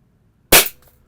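A CO2-powered non-lethal pistol fires a single sharp, loud shot that cracks suddenly after a short silence and then decays quickly, with no voices.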